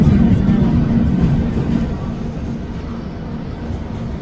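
A long-distance passenger train on a 29-hour run pulls away from the platform, a steady low rumble with a droning hum that starts louder and then eases to an even, continuous roll.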